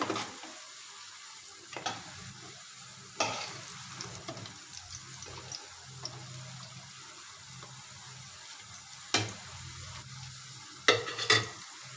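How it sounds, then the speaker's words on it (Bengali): Freshly flipped drumstick-leaf pakoras sizzle quietly in oil, with a few sharp utensil clinks and scrapes breaking through the low, continuous frying hiss. "এখন এই পাটটা খুব ভালোভাবে ভেজে নেব"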